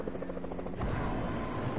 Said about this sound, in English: who's coming with the chopper now?